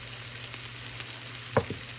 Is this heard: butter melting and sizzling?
yes